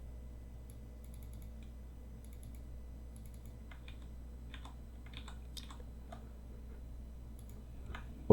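Irregular keystrokes on a computer keyboard, a few soft clicks at first and then a denser run of taps, close and fairly quiet over a steady low hum with no talking.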